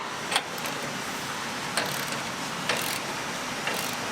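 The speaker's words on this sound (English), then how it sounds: "Now while I'm holding it still, I'm going to go back, take my socket and wrench," Socket wrench ratcheting while snugging a bolt on a 5th gen 4Runner during a Bilstein 6112/5100 suspension install with SPC upper control arms; four short, spaced ratchet bursts over a steady background hiss.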